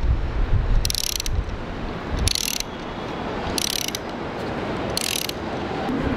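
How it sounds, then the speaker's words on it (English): A ratcheting tool tightens screws on a mounting bracket securing a device to a car roof rack outdoors, four short bursts of rapid clicking over steady wind noise. "you screw in all four screws on each side"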